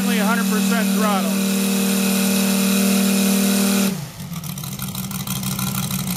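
An RCS150 engine roars steadily at full throttle, a loud continuous drone with strong low harmonics for about four seconds, then it cuts to a lower, rougher tone.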